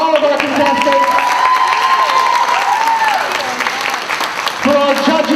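Applause for the contestants at the Colossalcon 2019 wig contest fills the hall, with a crowd clapping and cheering and a few high shouts. Amplified talk runs over the clapping at times.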